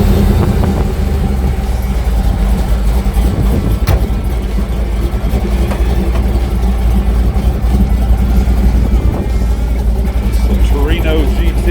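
A Ford Torino GT with a 351 V8 rumbles loudly at idle at an outdoor Christmas car show, a continuous heavy engine drone under crowd noise and nearby talk.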